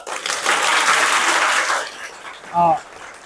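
School students burst into loud, dense group applause that runs steadily for nearly two seconds and then fades, followed by a brief voice.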